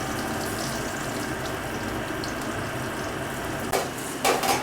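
Brinjal slices fry in a pan with a steady, close hissing sizzle, broken near the end by a couple of brief scraping turns of the pieces.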